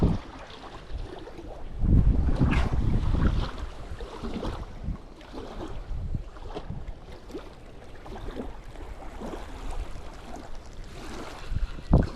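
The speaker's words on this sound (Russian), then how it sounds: "Правда, ветер у нас тут серьезный, как слышно будет, не знаю." Strong wind buffeting the microphone at a feeder fishing spot on open water, loud gusty rumbles swelling early then continuing in uneven bursts, no talk.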